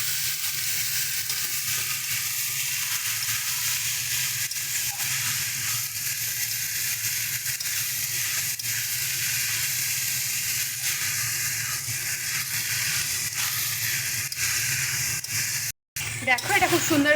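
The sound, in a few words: banana flower and chickpeas being stirred and fried in pan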